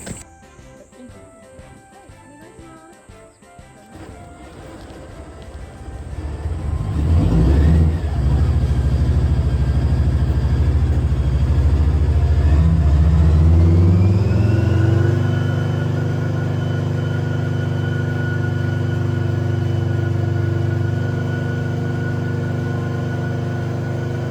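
A JGSDF Type 74 tank's heavy engine rumbles loudly and steadily, rising in pitch and strength as the hydraulic suspension raises the hull, then settling into a sustained low drone; a faint voice may be present.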